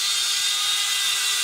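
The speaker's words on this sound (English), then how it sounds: "I take this bronze bore brush that's chucked up in this little snap-on drill" A small Snap-on drill spins a bronze bore brush inside rifle case necks, giving a steady high-pitched whirring hum that holds evenly throughout with no talk.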